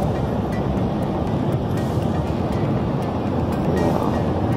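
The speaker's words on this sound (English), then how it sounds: "That helicopter already took off." A steady, loud helicopter rotor drone taking off fills the whole stretch, a continuous mechanical roar with a faint rhythmic chop.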